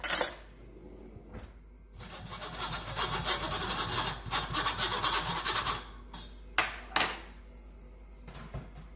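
Flour sifted through a sieve for a French magic cake, heard as a steady scratchy rubbing and rasping with rhythmic strokes over several seconds, followed by a few brief sharp taps.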